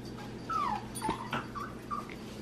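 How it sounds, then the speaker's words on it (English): A dachshund whimpers close by, a few high, wavering whines and short yips in quick succession with no talking. "What's that dog here? A Dachshund."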